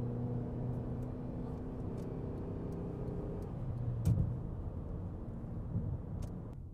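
Honda Accord with a throttle response controller set to its most aggressive race mode, engine droning low and steady with a mild surge of acceleration partway through, heard from inside the cabin without speech.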